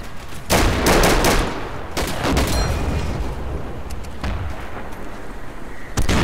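Gunfire from a machine gun in the World War II shooter Darkest Hour, with loud, dense bursts of shots and booms crackling on and off across the scene, some near and some more distant.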